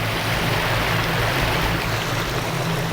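A shallow mountain stream in the Northern Cascades flows with a steady, close, full rushing and burbling sound, constant throughout with no voices.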